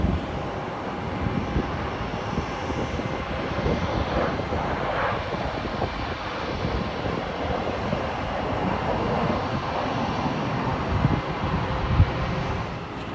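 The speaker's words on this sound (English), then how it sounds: "KLM's Boeing 737. It's arriving at Heathrow from Amsterdam." A KLM Boeing 737 landing at Heathrow on arrival from Amsterdam, heard as a steady broadband jet engine roar with wind noise that stays loud and even throughout.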